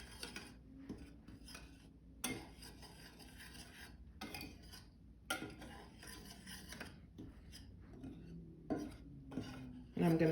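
A utensil scrapes and clinks against a bowl while garlic powder, black pepper, salt, chicken seasoning and paprika are stirred into flour. The strokes are quiet, close and intermittent, with a few sharper knocks.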